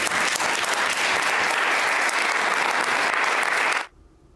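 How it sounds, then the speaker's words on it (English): Round of applause in the Senate chamber as a gun control bill passes, loud sustained clapping from many people that cuts off abruptly near the end into quiet room tone. "there was a round of applause yesterday in the Senate when the bill passed"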